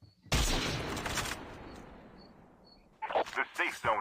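Gunfire in a Call of Duty Mobile battle royale match at a farm area, a sudden burst of rapid shots fading into a rattling tail, followed by a commentator talking.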